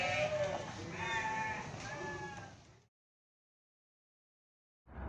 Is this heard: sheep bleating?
yes